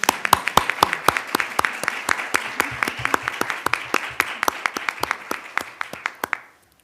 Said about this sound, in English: how about a round of applause for our board?